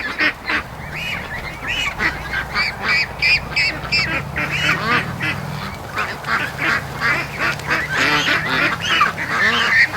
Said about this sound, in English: This is what the Muscovy do, huh? And the little guys are coming back.